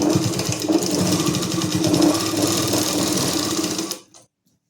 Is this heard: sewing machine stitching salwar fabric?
yes